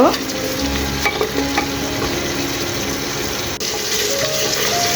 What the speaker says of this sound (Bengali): এ পর্যায়ে আমি দিয়ে দিচ্ছি টক দই এখন ভালো করে আরও পাঁচ ছয় মিনিট কষিয়ে নেব